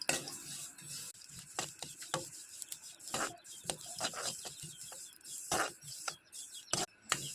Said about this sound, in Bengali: শুকনো কড়াইয়ে আমি তিলটা ভেজে নেব।